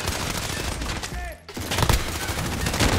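Rapid automatic fire from an AS Val assault rifle in Call of Duty Modern Warfare comes in dense, continuous bursts, broken by a brief gap about halfway through before the shooting resumes just as loudly.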